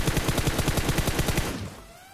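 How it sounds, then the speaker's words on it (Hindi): Rapid gunfire in PUBG Mobile on the Erangel map, a sniper duel in progress, heard as a steady run of loud, evenly spaced shots lasting about a second and a half before cutting off and fading into a short tail. "मेरे को एक बंदा स्पॉट हुआ जो कि मेरे पे स्नाइपर का शॉट ले रहा था"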